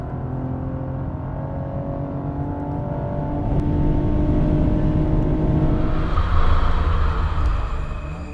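A 2016 Cadillac ATS-V driven hard on the Circuit of the Americas race track, its engine droning steadily and then swelling louder as it builds revs, heard alone without talk.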